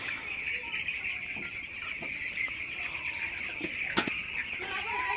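Fifteen-day-old broiler chickens cluck and peep continuously in a shed, a steady high chorus with scattered flaps and clicks, moderately near and without speech.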